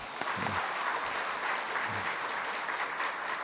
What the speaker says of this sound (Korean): 박수 한번 하시고